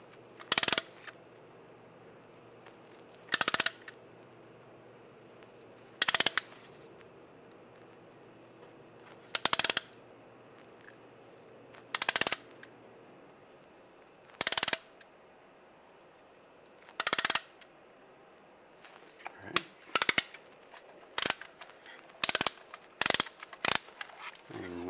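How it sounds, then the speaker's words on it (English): Brake caliper piston on a 1999-2005 Volkswagen Jetta being pushed back with a compression tool: sharp ratcheting clicks repeat roughly every few seconds, then come faster and closer together near the end, with no talk. "We're going to compress the caliper."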